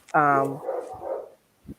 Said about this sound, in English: those sound like pit bulls, Akitas, everybody mixed up in there